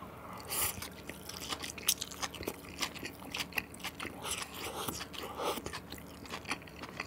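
Close-up crunchy biting and wet chewing of extra-spicy tteokbokki topped with gopchang beef intestines, with irregular bursts of crisp crunches and smacking mouth sounds and no talking.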